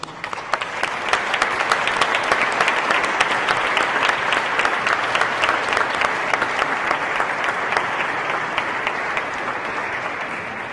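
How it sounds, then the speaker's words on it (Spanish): Sustained applause from a debate audience welcoming three candidates, steady and dense clapping filling the room for about ten seconds without a break. "Recibimos con un aplauso a los tres candidatos"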